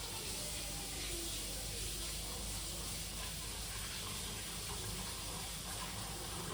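Steady stream of tap water running into a kitchen sink while something is rinsed, a constant close hiss and splash with no pauses.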